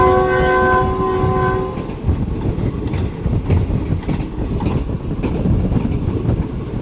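Green Line passenger train hauled by a GU40 diesel locomotive, running near Khairpur on the Lahore to Karachi route: a loud steady horn blast sounds for about two seconds, then continuous rumble and rattle of the moving train with clickety-clack.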